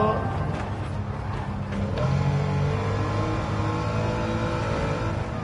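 A BMW M3 in Gran Turismo 7 drives steadily, its engine droning with a sustained tonal hum that rises slightly in pitch partway through, loud and close, with no voices over it.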